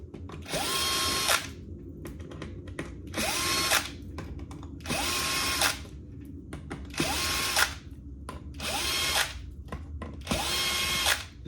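A power drill backs screws out of a Rane One DJ controller in six bursts of about a second each, whining up in pitch and spinning down, separated by short pauses with faint handling noise.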